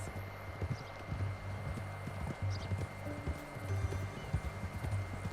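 A horse's hooves clip-clop at a steady walking pace in Red Dead Redemption 2, each clop distinct and near, over a low background hum, with a brief whinny-like tone in places.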